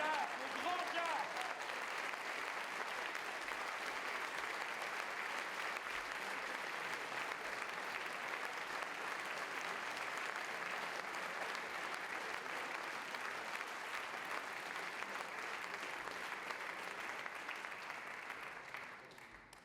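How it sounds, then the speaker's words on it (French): A congress audience gives a long, steady ovation for Jacques Simonet, a dense wash of many hands clapping that holds evenly for nearly twenty seconds before thinning slightly at the end. "Un tonnerre d'applaudissements en hommage à Jacques, au grand Jacques."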